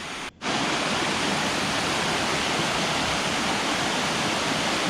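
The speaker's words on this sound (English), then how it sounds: "And you see the waterfall in front of us." Berkelah waterfall in Pahang, Malaysia roars as a dense, steady broadband rush of falling water, loud and close, broken only by a brief dip near the start, with no voices.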